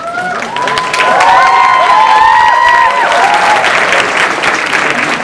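An audience at a rose pageant applauds steadily for a judge as the name is called, loud sustained clapping mixed with some cheering, swelling after a brief softer start and holding to the end.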